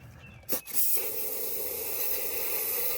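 A short hissing spray burst of penetrating lube into the cylinders of a seized 1958 Ford F100 engine, then a steady broadband aerosol hiss that continues unbroken, fairly close and moderately loud.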